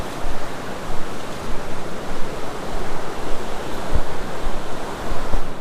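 River rapids rush steadily nearby along a wooded walking path, a loud, dense, unbroken roar of churning water with no talk over it.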